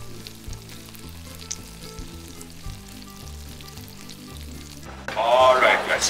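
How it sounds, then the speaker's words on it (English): Salmon fillet searing over the fire: a loud, close sizzle bursts in only near the end, after several seconds of steady background music. "we take the salmon fillet and we sear on the fire for, let's say, 1 minute one side, 1 minute another side"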